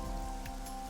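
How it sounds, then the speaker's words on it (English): Steady pouring rain patters in a video game, AI: The Somnium Files, over a soft background music bed, with no talking during the brief moment. "Right now she's standing in the pouring rain with her umbrella up."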